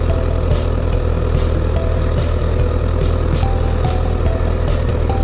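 A Honda CBR1000RR sport bike engine idles close by with a steady, even, low rumble and no revving throughout.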